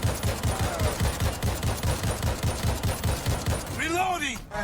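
Loud automatic gunfire from an unsuppressed gun in a video game, a steady rapid stream of heavy close shots for several seconds, ending as a voice calls out over the last bursts.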